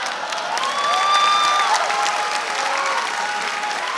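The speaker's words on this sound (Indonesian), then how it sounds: "tepuk tangan buat Romi Hakim" Audience applause and cheering for a stand-up comedy performer at a live comedy show, a steady, dense clapping crowd sustained for the whole stretch with some whoops rising above it.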